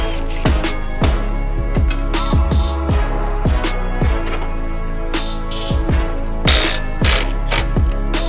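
A ratchet wrench working on the bolts of a smashed BMW X5's reinforcement beam, 18 mm and 13 mm sizes, sounding as loud, close bursts of rapid clicking with short pauses between strokes while someone talks over it.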